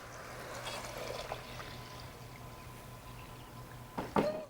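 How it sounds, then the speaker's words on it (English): Six cups of water poured into a cooking pot with rice and mung dal, a soft steady liquid wash through most of the stretch, then a brief louder splashing pour near the end, with faint kitchen background. "Would you like me to pour it in?"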